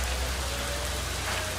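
Heavy rain falling continuously, a dense close patter on a surface, loud and unbroken with no voices.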